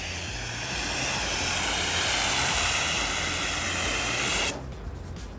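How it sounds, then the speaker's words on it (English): Water sprays in a strong, steady hiss onto a bare car surface during detailing, loud and close, then cuts off abruptly near the end, leaving a quieter background. "we're gonna spray the water so you can see that."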